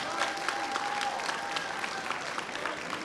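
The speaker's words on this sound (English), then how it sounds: "Big round of applause for the most important guest," Steady applause from a large convention audience at an opening ceremony, continuous clapping filling the hall without a break, fairly even in loudness throughout.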